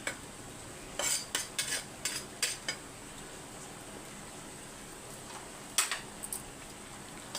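Rice is stirred in a clay pot with a utensil: a series of short scraping clinks in clusters, then a pause and a few more, close and moderately loud, with no talking.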